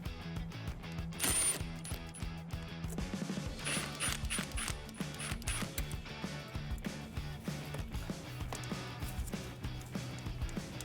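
Rapid clicking ratchet of a socket wrench with an 8mm socket loosening the fasteners on the intake tube of a 1987-2004 Ford Mustang V8, steady close ticking in repeated bursts, no talk.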